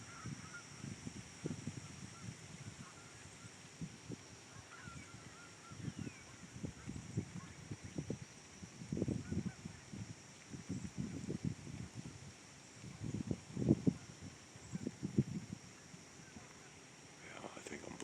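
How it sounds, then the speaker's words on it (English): Geese honk repeatedly in the distance, a steady chorus of faint calls over a low background. "Oh, I can hear some geese."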